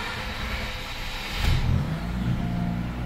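A Mazda RX8 rotary engine, still cold and fitted with a new starter and Optima battery, catches midway and settles into a loud, rising rev and rumble, close up.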